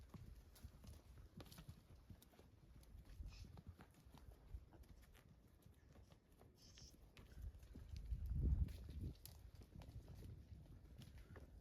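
A group of horses walks along a remote jungle trail in Peru, hooves clip-clopping in an uneven stream of soft, fairly faint steps, growing a little louder and heavier for a moment near the end.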